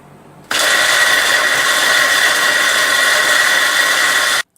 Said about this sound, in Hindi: जितने ड्राई फ्रूट्स हैं वो मैंने ग्राइंडर में डाल लिए, उनको ग्राइंड करना है।